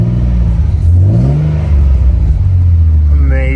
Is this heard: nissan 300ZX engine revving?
yes